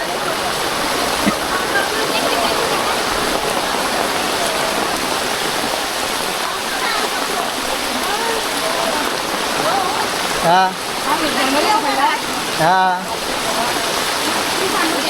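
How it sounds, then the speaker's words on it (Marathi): Heavy rain runs as a steady, loud rush of water pouring down from above on a hillside path near a Mahalaxmi temple among trees, with voices and brief laughter over it. "पाण्याचा नुसता झोत आलाय वरून"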